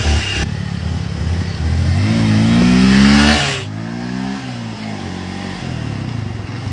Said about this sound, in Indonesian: Lah ieu motor Mang Jack alah.